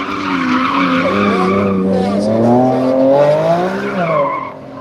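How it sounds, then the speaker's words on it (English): Lamborghini Revuelto V12 plug-in hybrid supercar driving at a motor show, a loud, sustained engine note rising and falling in pitch over about five seconds with tyre squeal, near and dominant. "he's coming in his new Lamborghini Revolto"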